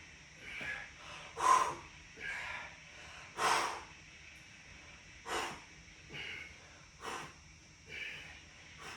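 Heavy, deliberate breathing during a no-equipment full-body bodyweight workout, with loud rhythmic exhales and inhales, roughly eight breath bursts evenly spaced and close to the microphone, with no talking.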